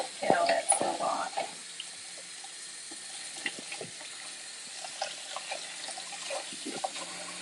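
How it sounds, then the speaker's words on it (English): Running tap water pours during a baby raccoon's bath, a soft continuous hiss with faint splashing, heard fairly quietly, with some brief murmured sounds near the start. "So I'll just put her under that running water and get all that stuff off."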